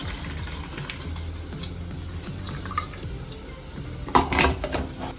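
Film developer liquid poured into a 35mm black and white film developing tank, a soft gurgling trickle with drips, swelling into a brief louder splash near the end.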